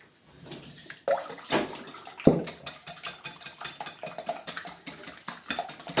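A hand whisk beating batter with a pinch of salt in a bowl for a skillet-baked cake, making quick rhythmic scraping and tapping strokes against the bowl, close and steady with no talking.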